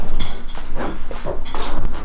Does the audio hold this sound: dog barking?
yes